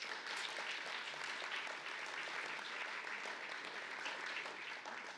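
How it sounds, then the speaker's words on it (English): An audience at the Damon Runyon Cancer Research Foundation's 80th anniversary celebration applauds Emily, a dense, even wash of clapping filling the room from start to finish with no talk over it. "so a round of applause for Emily"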